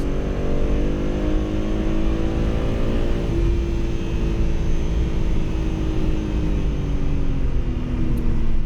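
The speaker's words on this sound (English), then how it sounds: "More hard braking, downshift, turn in" A race car brakes hard and downshifts on a wet Watkins Glen International track day, its engine loud and close as the revs drop in steady falling steps with no voices.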